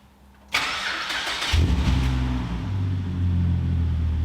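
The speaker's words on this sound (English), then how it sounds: "Let's see if she fires up." A car engine cranks briefly with a loud whirring starter, then catches and settles into a steady, low idle rumble that carries on to the end. No voices are heard.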